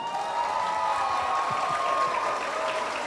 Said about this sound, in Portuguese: Eu achei que as palmas do Leandro foram maiores